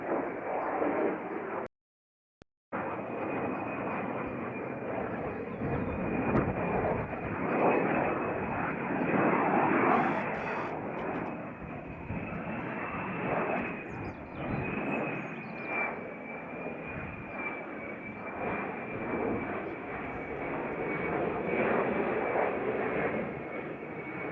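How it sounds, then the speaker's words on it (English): A continuous loud jet roar from F-35 fighter jets flying overhead in north Wales, sustained and far-carrying, with a whine that rises and falls and a brief cut partway through. "Now that is an F-35. And there's the other one."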